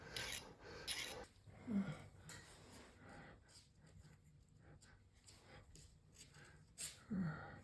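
Hand metal file rasping across a small metal part while building a circle-painting rig: quiet, scratchy back-and-forth strokes repeating irregularly, close up, with faint room noise and occasional soft knocks.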